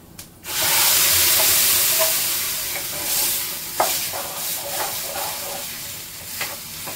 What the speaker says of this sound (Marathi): फास्ट गॅसच्या आपल्या कढईमध्ये म्हणजे फोडणी घातली, त्यात घालायची ही चटणी